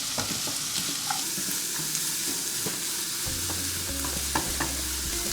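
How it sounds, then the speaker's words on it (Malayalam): Sliced onions fry with salt in a pan for egg Manchurian, a steady close sizzle broken by frequent scraping stirs of the spoon, with no voices. "ഈ സവാള നന്നായിട്ട് മൂക്കണ്ട, ചെറുതായിട്ടൊന്ന് വാടി വരുന്നവരെ ഇളക്കി കൊടുക്കാം"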